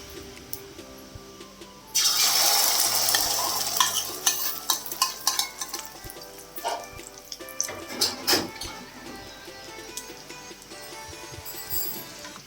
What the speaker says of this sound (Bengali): তেল গরম হয়ে গেছে এখন আমি যে ডিমের ব্যাটারটা তৈরি করে রেখেছিলাম সেটা আমি এখানে দিয়ে দেবো